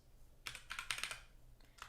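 Typing on a computer keyboard to enter a Raspberry Pi's IP address: close, quick bursts of key clicks in short clusters, with no talking.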